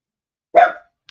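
A single sharp dog bark sounds close and loud indoors, one short burst followed by silence.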